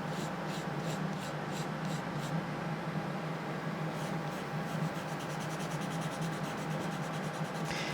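Steady, continuous abrasive rubbing of sandpaper across a hard plastic shell, removing excess glue, with faint rhythmic scratchy strokes, close and fairly quiet.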